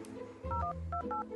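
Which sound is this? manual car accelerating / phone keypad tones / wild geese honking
phone keypad tones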